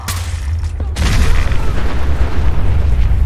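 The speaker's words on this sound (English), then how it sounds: "Explosives. Yeah, nuke grenade." A nuke grenade detonates in Fallout 4 with a sudden heavy boom, followed by a sustained deep rumbling roar that fills the rest of the moment, loud and close.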